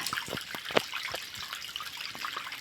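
Tap water runs and splashes into a container set out for a rescued cat to drink, a steady trickle with a few sharp drips and clinks, close by and without talk.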